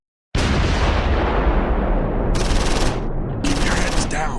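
Loud, close bursts of machine gun fire in Close Combat 4, a World War II battle at Simmerath, start abruptly and rattle on in continuous dense volleys with short breaks.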